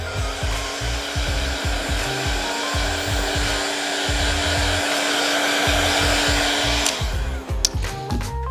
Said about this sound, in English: just use a hairdryer in the highest setting